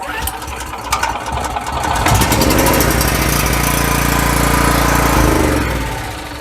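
A 2.5 kW petrol generator, well maintained, starts and settles into a steady loud mid-pitched engine drone close by, preceded by brief rattling and handling noises.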